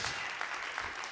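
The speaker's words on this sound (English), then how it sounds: "Give them a big clap." An audience at a church service claps together in a steady, full burst of applause, close and continuous with no talk over it.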